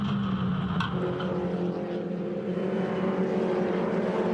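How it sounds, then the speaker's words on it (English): A steady, droning engine roar from turbocharged 4-cylinder MINI Challenge race cars with racing exhausts at Barbagallo Raceway, loud and continuous, with a faint higher whine and a brief metallic click early on. "They're purpose-built race cars from the BMW Motorsport factory. 4-cylinder engines, turbocharged, racing exhaust"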